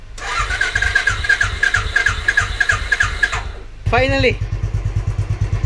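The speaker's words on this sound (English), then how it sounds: "Thank God it started. I didn't have to kick. I just pulled the choke." Royal Enfield motorcycle engine starting on choke with a new battery: a rapid cranking whir and squeal, then the single-cylinder engine catches into a loud, steady thumping idle, with someone speaking briefly.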